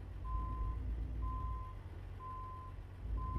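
Steady reversing beeps from a truck backing up in American Truck Simulator, four evenly spaced tones over a low idling engine rumble, with no voices.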